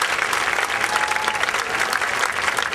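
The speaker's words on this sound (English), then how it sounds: "how about a loud round of applause for all those that tried it though?" A crowd claps loudly and steadily throughout, a dense sustained round of applause with no breaks.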